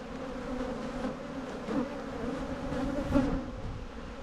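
Bees hum steadily at a commercial bee yard, a dense close drone that swells slightly now and then, with no speech.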